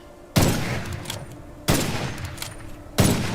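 Three heavy gunshot bursts from a first-person shooter, Witchfire, fired about every 1.3 seconds, each a loud sharp crack followed by a rumbling tail.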